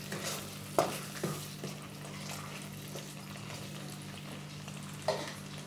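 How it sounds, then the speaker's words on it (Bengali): Bengali-style spice paste (masala) sautéing in oil as it begins to release its oil, a faint steady sizzle with a few soft scraping stirs, heard alone without talk. "এবার দেখুন মশলাটা অনেকটা কষানো হয়ে এসছে, আস্তে আস্তে তেল ছাড়ছে"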